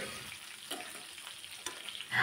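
Fish frying in a pan hiss and sizzle softly the whole time, with small crackles and a louder spatter right at the end, close by and without any talk.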